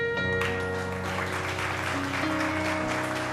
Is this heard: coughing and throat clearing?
no